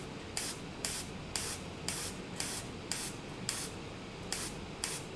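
A Gundam Marker airbrush spraying paint in a regular series of short hissing bursts, about nine evenly spaced puffs, close and moderately loud with no talking.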